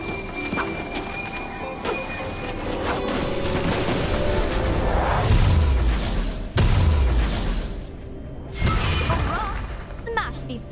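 A turret being destroyed in League of Legends, crashing explosions and shattering impacts amid busy game effects, with a voice announcing over the noise.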